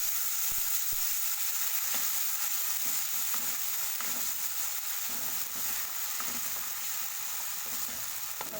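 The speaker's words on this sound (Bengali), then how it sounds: "দেখো একটু ভাজা ভাজা করে নেব" Stone-ground spice paste for katla curry fries with a continuous bright sizzle, broken by soft, periodic scrapes of stirring in the pan, with no talking.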